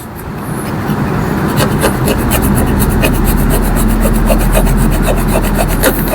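A metal blade scraping repeatedly across an IC chip during BGA reballing, steady rasping strokes up close with a continuous low hum underneath.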